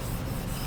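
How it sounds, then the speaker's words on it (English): A knife is pressed flat and rubbed against a sharpening stone in one brief, continuous gritty scrape. "we're just going to continue to flatten just for another couple seconds, applying a good amount of pressure down on the stone"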